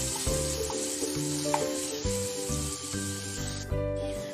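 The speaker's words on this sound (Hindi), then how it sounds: "तो मिर्ची और जो जीरा है वो अच्छे से सॉटे होने के बाद" Crushed green chillies and cumin sauté in a pan, giving a continuous close, loud sizzle under a steady layer of background music.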